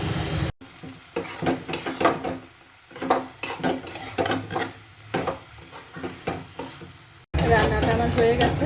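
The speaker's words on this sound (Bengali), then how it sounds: "এই পর্যায়ে আমি ভাপিয়ে রাখা মোচা দিয়ে দিলাম।" Steamed banana flower frying in hot oil in a pan, loud sizzling with repeated scraping stirs of a utensil against the pan, close and continuous with brief breaks.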